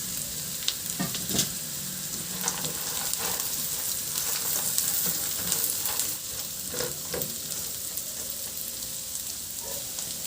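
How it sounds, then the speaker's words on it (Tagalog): Fried tofu and onions sizzle steadily in a hot pan, a constant hiss punctuated by a few scraping stirs and soft clinks, with no voices. "Okay na tong sibuyas, ilagay ko na yung pinirito nating tokwa."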